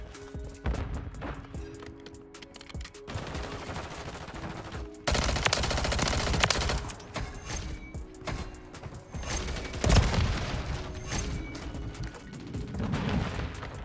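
Gunfire in the video game Modern Warfare 3, rapid bursts of automatic weapon shots with mechanical clicks and bangs, fairly quiet overall with louder bursts midway, set against steady game background sound and music.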